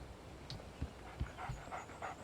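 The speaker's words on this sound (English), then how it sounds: "Oh, look, a puppy" A dog panting in the video game Alan Wake, a retriever puppy giving quick, soft breathy pants with a few low thumps, fairly quiet and close, with no voices.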